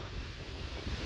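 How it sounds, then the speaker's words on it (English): Strong outdoor wind gusts buffet the microphone in a dense, low rumbling roar that swells unevenly through the short stretch, with no voices. "look at that strong wind"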